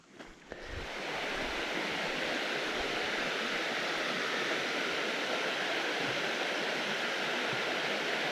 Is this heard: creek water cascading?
yes